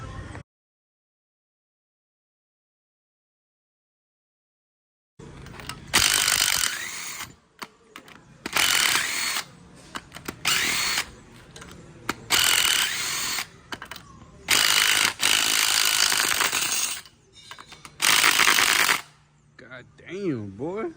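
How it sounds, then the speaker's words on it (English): Removing the head bolts from a 5.3 engine with a ratchet gives a run of loud, rapid clicking bursts, each a few seconds long, separated by short pauses after an opening stretch of near silence. "right now we're gonna take out these 5 bolts"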